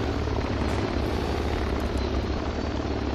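Loud, constant helicopter rotor and turbine roar from military choppers around a submarine bay in Project Reality, a thick unbroken wash of noise with no talk.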